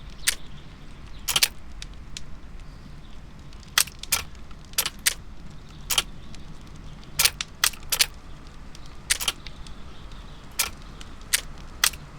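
Lockpicking a locked door in the game Sherlock Holmes: Crimes and Punishments: sharp metallic clicks and jangles scattered irregularly over a low, steady background hum, close and fairly crisp.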